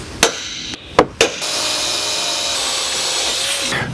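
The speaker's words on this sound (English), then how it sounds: "let's drill those out" A power drill boring holes into a shock bracket on a Jeep Gladiator JT, during a Fox reservoir shock install: a few sharp clicks, then a loud, steady, close drilling whine that runs without a break.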